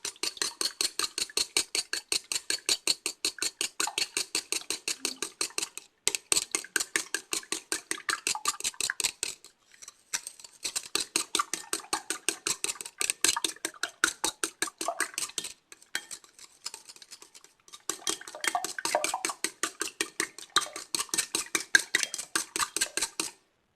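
A utensil whisks a steamed-egg mixture in a bowl with fast, steady clinking strokes. It comes in several long bursts separated by short pauses, close and clear with no talking.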